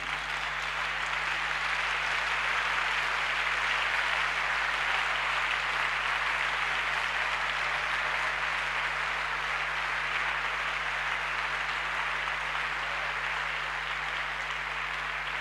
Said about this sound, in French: tenez-vous debout et acclamez le Seigneur pour cette passerelle qu'il nous impose